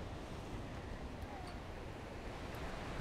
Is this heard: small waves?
yes